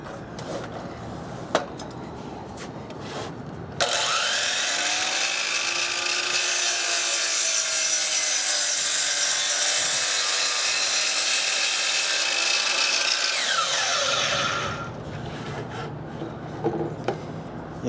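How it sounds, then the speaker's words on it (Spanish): A DeWalt miter saw cuts through a larger piece of wood, giving a loud sustained whining rasp for about ten seconds, bracketed by quieter motor and handling sounds before and after. "Voy a cortar este donde se va a necesitar un poco más grande."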